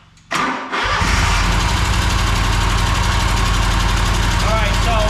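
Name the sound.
engine starting and running with abnormal valve noise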